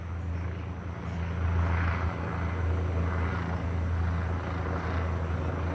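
A sheriff's helicopter hovers and circles overhead at night, a steady low rotor drone that swells slightly and then holds at a moderate, constant level with no talk.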